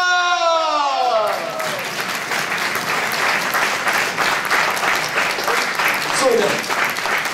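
A large public-viewing crowd breaks into loud, sustained applause for Uwe Seeler, steady clapping filling the whole stretch after an announcer's voice at the start, with a brief voice rising near the end.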